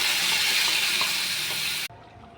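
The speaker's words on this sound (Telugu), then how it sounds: "చూడండి, మిక్సీ చేసిన పేస్ట్ వేసుకుంటున్నాను." Masala paste of ground spices hits hot oil already seasoned with cumin, mustard seeds and curry leaves for an ivy gourd curry, giving a steady loud sizzle that cuts off abruptly near the end, leaving quieter room tone.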